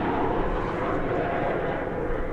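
An American Airlines Boeing 737-800 arriving at Dallas Fort Worth Airport, a steady, moderate jet engine rumble that holds constant through the brief moment with no clear speech on top.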